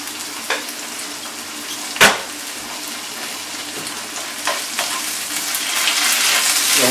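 Thai red curry paste cooking into a pan of sauce, giving a steady close sizzle and bubbling with a few sharp spoon or pan knocks along the way; no one talks.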